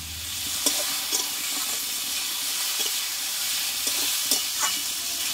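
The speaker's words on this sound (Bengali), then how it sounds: "আমি ধীরে ধীরে কষিয়ে নিয়েছি" Ash gourd sautéing in a pan, a steady hiss of frying with a few sharp scrapes and clicks of the spatula stirring at irregular intervals, close and fairly loud, no talk.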